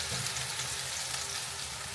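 Chopped onions sizzle steadily in hot oil with cumin seeds in the pan. The dense, even frying hiss stays close and continuous throughout, with no talk over it.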